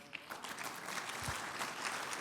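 Audience applause at a CAIR Oklahoma annual banquet keynote speech, a dense, continuous wash of many hands clapping in a large hall, steady and moderately loud throughout with no clear voices.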